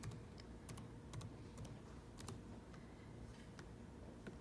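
Quiet, irregular clicking of keys on a Chromebook keyboard, with short bursts of taps spread across a few seconds and no talking.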